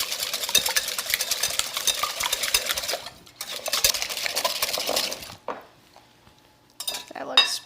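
Eggs whisked in a bowl for a spinach feta quiche: a rapid, close, continuous clatter of whisk against the bowl for several seconds, a short pause, another burst, then quiet with a final few taps.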